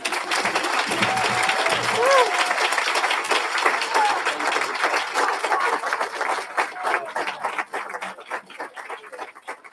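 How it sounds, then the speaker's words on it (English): Graduates and guests clap at a graduation ceremony for people leaving prison, a sustained round of applause with crowd noise, a few whistles or calls early on, and scattered claps trailing off. "Can we give Danielle another gigantic round of applause?"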